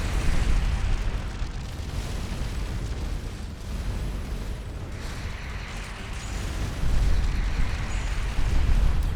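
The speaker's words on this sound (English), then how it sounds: "Their missiles hurt." Enemy missiles explode against a ship in the space game Starcom Nexus, a steady barrage of deep booms and pops swelling louder in places, with no talk.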